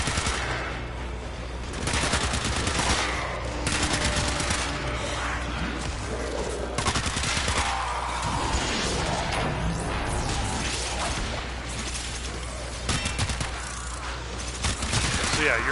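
Warframe gunfire pours out in rapid, sustained bursts with short pauses, loud and close, mixed with crashes and whooshes while a voice talks over the shooting.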